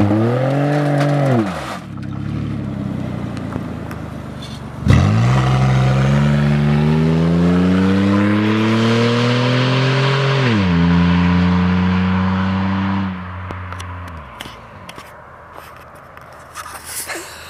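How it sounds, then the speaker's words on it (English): Chris's car does burnouts, its engine revving hard in repeated rising and falling surges with tire squeal mixed in, loud and close, then dropping to idle near the end. "He's gonna do some burnouts and maybe some poles."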